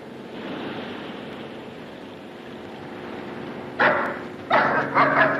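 A dog lets out a few sharp, loud barks in quick succession near the end. Before that there is a stretch of low, steady background noise.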